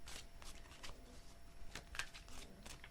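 Tarot cards shuffled by hand in a quiet room, a run of quick papery riffles and soft slaps in short bursts, close and fairly faint.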